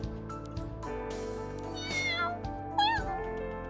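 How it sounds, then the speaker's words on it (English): Kitten meows from a story scene of a frightened kitten hiding under a sofa, two short rising cries over a steady background music bed, moderately faint. "A terrified little kitten peeked out from under the sofa"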